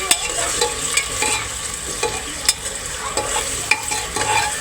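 Onions frying in a pan for a desi rooster curry over low gas heat, a steady close sizzle broken by repeated scraping stirs and a few sharp clatters of the spoon against the pan.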